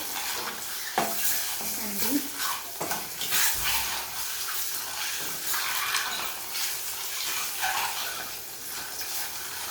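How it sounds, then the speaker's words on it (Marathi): Two eggs frying in a little oil in a pan, a continuous close sizzle and crackle with occasional stirring or scraping, heard alone without speech. "त्यानंतर आपण ही दोन जी अंडी घेतली आहेत ती टाकणार आहोत थोडीशी तेलामध्ये फ्राय करायची आहे"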